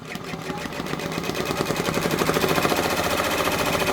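An embroidery machine stitches a freestanding quilt block, its needle hammering in a fast, even mechanical rattle that builds in loudness and stays close and steady throughout.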